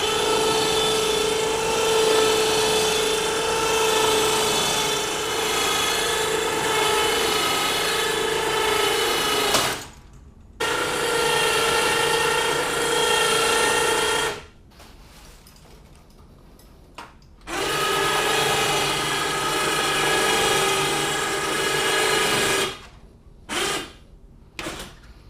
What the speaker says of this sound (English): Well, that's pretty darn useful, having an electric crane in your shop.